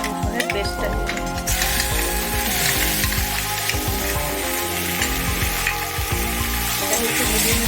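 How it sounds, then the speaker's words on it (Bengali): Ginger garlic paste sizzles loudly with fried onions in a pan for a chilli okra dish, a dense crackling hiss throughout with spattering pops and stirring clinks, while someone talks over it. "এবারে আমি আদা আর রসুনের পেস্টটা দিয়ে দেবো।"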